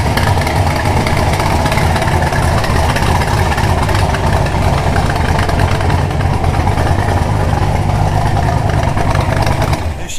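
A 1966 Corvette Stingray 427 Turbo Jet convertible idles with a steady, loud, deep rumble that holds even throughout, cutting off abruptly near the end.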